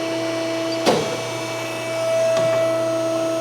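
A mandrel tube bender retracts its mandrel after bending 2 x 3 tubing for a drag car back half: a steady, tonal machine hum with a sharp clunk early on, then a slight swell in the drone.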